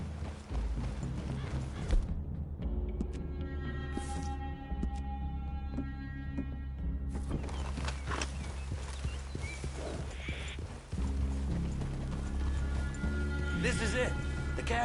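Horses walk with a steady clip-clop of hooves on a wooded clearing, heard alongside a film soundtrack with music and people talking over it.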